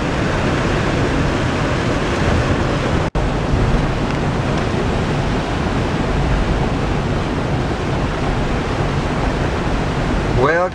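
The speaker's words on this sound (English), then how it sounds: "There's so much water coming down here you could drown just walking across the street." Heavy rain pouring down in a town street in Oregon, a dense continuous roar of falling water that stays loud and unbroken, with a brief dropout partway through.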